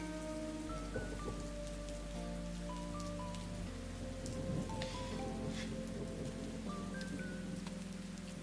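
Steady rain falls in a Zoey 101 TV episode scene, a constant wash of drops on surfaces heard beneath a gentle song.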